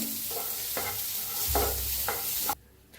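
Green chillies and garlic roasting in a pan with a few distinct stirring scrapes over a soft continuous sizzle, close up, ending abruptly into near silence.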